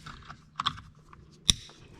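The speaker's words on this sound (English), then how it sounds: "Make sure you hear that clicking noise." A 2016 Honda Accord clock spring gives a few sharp, small plastic clicks while being installed, with two quick snaps and then one louder click over a quiet background.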